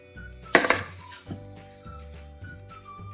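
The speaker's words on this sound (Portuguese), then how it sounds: "Agora eu vou cortar aqui na metade." A knife slices through a peeled onion on a cutting board, one sharp cut followed by a few lighter taps and thuds of the blade, close and clear in a quiet kitchen.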